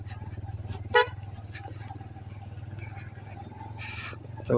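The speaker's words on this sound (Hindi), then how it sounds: "अब यहाँ पे हारन देना पड़ता है, एक एक को बताना पड़ता है कि भाई ये ना आए इस साइड पे।" A single short, loud vehicle horn blast sounds about a second in, over the steady low drone of an engine on a winding mountain road between the Keran and Sharda valleys; a fainter second toot follows later.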